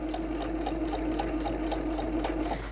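A sewing machine stitching fabric stabilizer for a DIY toiletry bag or handbag, running in a steady, rapid, even whir with a regular needle rhythm, loud and close with no talking.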